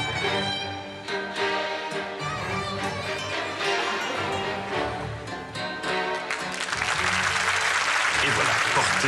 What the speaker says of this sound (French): Merci d'applaudir et d'encourager Claire Chazal.